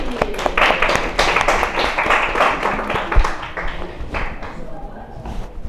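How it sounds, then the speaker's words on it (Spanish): An audience claps at a talk, a dense run of overlapping hand claps that keeps going steadily, with some voice mixed in. "Aplausos,"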